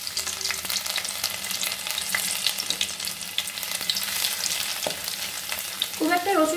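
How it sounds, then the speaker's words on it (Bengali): Chopped garlic frying in leftover pakora oil while a chili chicken gravy gets started, a close steady sizzle with stirring scrapes and a louder spatula clatter near the end, no voices. "ওই পকোড়া ভাজার তেলতেই আমি কিছু কুচানো রসুন কুচি দিয়ে দেবো।"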